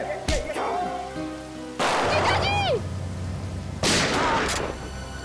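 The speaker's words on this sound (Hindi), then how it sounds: "बहुत शौक है गोली चलाने का है?" Three loud bursts of gunfire crack out at intervals, with whistling, ringing tones sweeping between them like a dramatic action scene.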